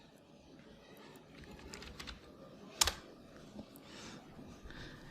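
Soft, close typing on a computer keyboard, a scatter of light key taps with one sharper, louder press standing out near the middle, like an Enter key being struck.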